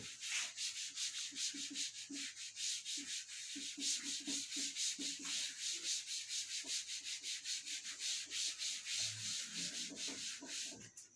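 An eraser is rubbed across a classroom board in quick, regular back-and-forth strokes, producing a steady rhythmic scrubbing that continues for several seconds without speech.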